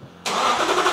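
A very loud car engine fires up abruptly after a moment of quiet, bursting into a harsh, noisy roar that holds steady right up close.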